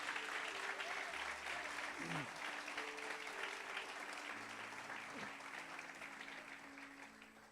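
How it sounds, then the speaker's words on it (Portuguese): A church congregation claps loudly and steadily, a dense crowd applause heard somewhat distant with a faint tonal hum and brief background voices underneath. "dá uma salva de palmas bem forte"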